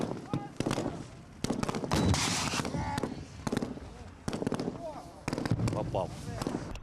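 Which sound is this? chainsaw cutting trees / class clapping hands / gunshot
gunshot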